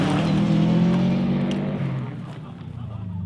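A motorcycle engine roars loud and close during a jump, holding a strong droning note before the pitch drops and fades slightly, with a sustained buzzing tone.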